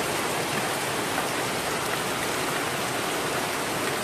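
Heavy rain pouring down steadily outdoors, a loud, dense, unbroken hiss of drops hitting surfaces with no pauses or voices.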